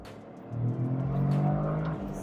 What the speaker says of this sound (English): it feels like a rally car engine